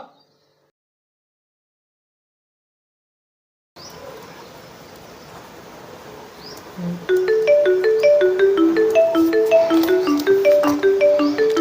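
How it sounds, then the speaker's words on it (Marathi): A mobile phone ringtone plays during a husband-and-wife comedy scene at home. After several seconds of silence and a low room hiss, a bright, repeating melodic tune starts and carries on steadily to the end. "हिच काय कटकट फोन आला वाटत"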